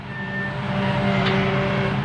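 A loud, continuous diesel engine drone with a steady mechanical rumble and a faint high whine from an old Hitachi UH04 excavator working its boom arm nearby.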